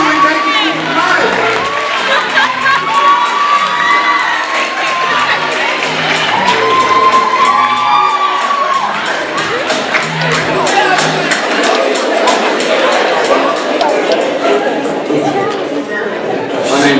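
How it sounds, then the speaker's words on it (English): A youth poetry slam audience cheers, whoops and applauds for a poet, loud sustained crowd noise with shouting voices layered over continuous clapping throughout. "Keep the applause going until we make it to the night."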